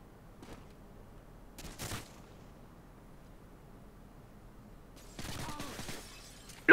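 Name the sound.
gunfire in Modern Warfare 2 video game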